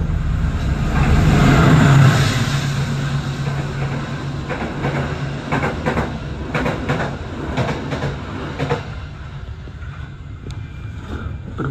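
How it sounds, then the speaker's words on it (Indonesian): A Serayu passenger train passes close by on the line near Cikampek station, heard from aboard a moving train as a loud continuous rumble and rush with rhythmic wheel clatter that gradually eases, and no talking. "berpapasan dengan kereta api Serayu"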